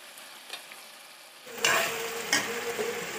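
Chicken coated in chicken masala is stirred in a hot pan: a faint quiet start, then a louder sizzle from about halfway with scraping stir strokes and a sharp clink of utensil on the pan.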